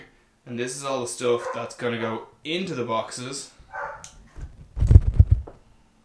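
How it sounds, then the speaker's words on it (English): A person talks for several seconds, then a dog barks a few times close by, loud and sharp, in a quick cluster. "And that's the dog getting riled up."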